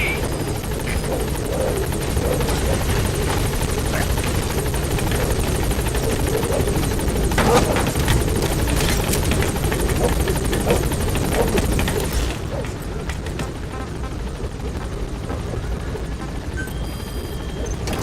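A helicopter in Metal Gear Solid V: The Phantom Pain hovers at a landing zone and then gains altitude, its loud continuous rotor thrum and turbine whine filling the scene, easing slightly toward the end.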